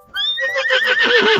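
A horse gives a single loud, close whinny that breaks in sharply, then quavers and wavers as it slides downward for over a second, standing alone with no talk.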